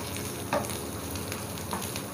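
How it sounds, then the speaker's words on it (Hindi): Finely chopped onion frying in ghee, with a steady, close sizzle throughout and a couple of brief stirring scrapes. "सॉफ्ट होने तक इसको फ्राई करेंगे।"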